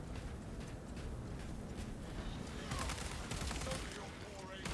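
Rapid bolt carbine fire in the Space Marine 2 video game, a fast close-combat weapon, as a steady stream of bursts over continuous game noise, growing denser toward the end.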